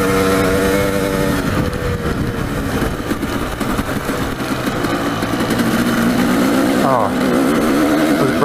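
A dirt bike engine drones and revs while riding a rough off-road trail at Rolls OHV in Arizona, loud and continuous with shifting pitch, wind buffeting and rattles, and a rider's voice talking over it.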